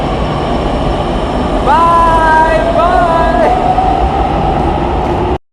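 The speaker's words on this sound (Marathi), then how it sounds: "बघू शकता मित्रांनो मेट्रो चालली कशा प्रकारे" A Pune metro train pulls away from the platform with a constant loud rumble, and rising electric motor whines climb in pitch twice as it gathers speed before the sound cuts off.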